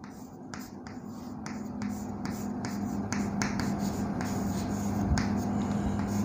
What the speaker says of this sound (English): Let me write.